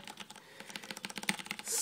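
Rapid typing on a Thermaltake MEKA G1 mechanical gaming keyboard: a close, steady stream of crisp clacking keystrokes, alone with no voices.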